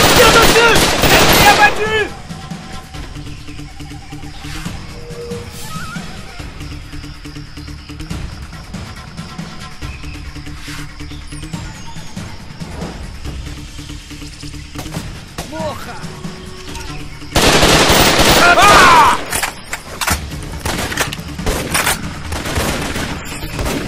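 Rapid machine-gun bursts in the jungle shooter video game Raven Squad, loud volleys at the start and again near the end, with shouted voices talking over the steadier game ambience.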